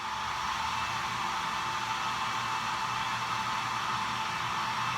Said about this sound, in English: This time I got my blow dryer ready.